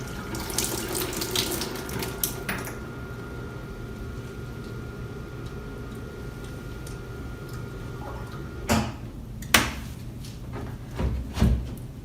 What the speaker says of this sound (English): we can grab our garden hose and we can rinse the dirty water recovery tank.